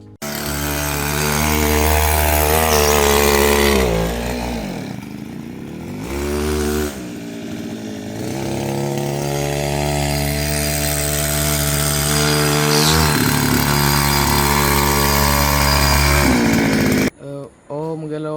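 A small petrol engine fitted to a normal bicycle converted into an engine-assisted hybrid petrol-pedal bike drones loudly and steadily, with brief dips in pitch and level, then cuts off abruptly near the end.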